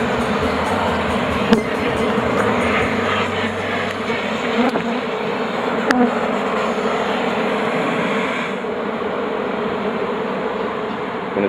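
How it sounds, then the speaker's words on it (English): Killer bees swarm around a hive in a wooden reel during a removal, producing a dense, continuous buzz that stays close and loud throughout, with a few faint clicks and no talking. "So let's go ahead and get them buzzing even more."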